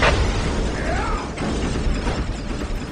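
Predator tank fire from Warhammer 40K Dawn of War: a loud blast at the start gives way to rumbling, mechanical clatter and a faint whine, with bursts of game noise and a hint of voice.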